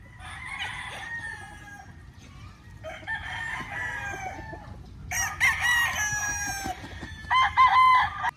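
Several stag gamecocks crow in repeated, overlapping cock-a-doodle-doo calls, some near and loud, others further off, over a low background rumble.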